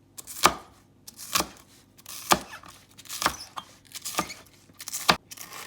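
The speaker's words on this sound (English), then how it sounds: "We're gonna roughly chop our cilantro and green onion" A knife chops roughly through cilantro and green onion on a board, six sharp, evenly spaced strikes, close and clear with quiet pauses between them and no voices.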